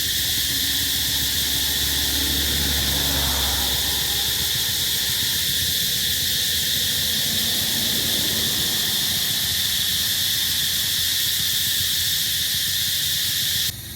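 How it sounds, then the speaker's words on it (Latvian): Cicadas at night near Ao Nang, Krabi, Thailand produce a loud, continuous high-pitched buzzing drone that holds steady throughout, over faint low background hum and distant ambient noise. "Un šeit visur ir pilns ar cikādēm."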